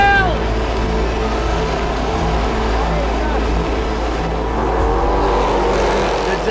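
Race cars roar through a skid on a track, engines droning loud and steady with a shifting whine as they slide, while an excited commentator talks over the noise.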